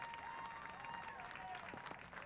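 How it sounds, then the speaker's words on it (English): Stadium crowd applauding during a Charleston Battery versus Charlotte Independence soccer match, a distant wash of clapping and cheering under faint whistles and tonal background sounds, quiet and continuous. "Evio Cordovez will get the round of applause"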